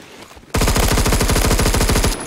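An MSG 90 rifle fires in the Phantom Forces video game: a loud, close, rapid string of shots that runs for under two seconds after a brief quiet lead-in.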